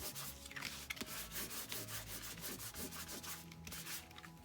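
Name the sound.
wiping ink off embossed paper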